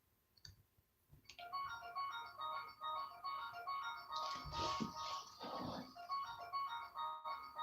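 A phone ringtone plays a bright repeating electronic melody of short stepped beeps that keeps cycling for several seconds, fairly quiet in a room, with a brief murmur of voices partway through.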